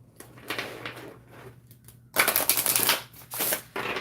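A small 34-card unicorn oracle deck shuffled close up in short bursts: a few light flutters, a pause, then a louder, longer riffle followed by two more brief shuffles.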